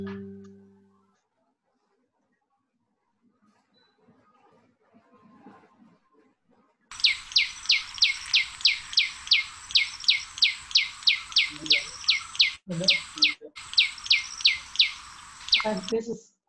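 Common tailorbird, a small garden bird, calling in a rapid run of sharp, evenly spaced chirps, loud and close, after several seconds of near silence.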